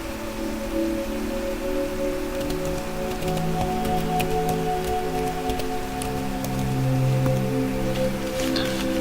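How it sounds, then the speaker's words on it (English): Rain falling in Minecraft, a steady patter of drops that holds at an even level throughout, with a low hum beneath it. "Yeah, there goes the rain."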